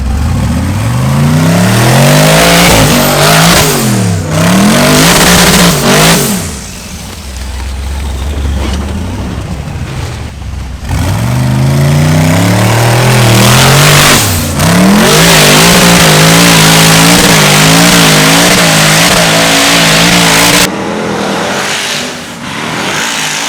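Rock bouncer on big tractor tires with a Pro Charger engine climbing a hill, loud and close, revving hard in repeated rising surges with brief drops between pulls.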